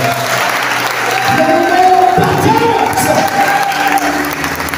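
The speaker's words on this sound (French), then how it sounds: "On donne des acclamations au Seigneur." A church congregation applauding and acclaiming the Lord, a sustained swell of clapping and cheering voices from a crowd that peaks in the middle, loud and close.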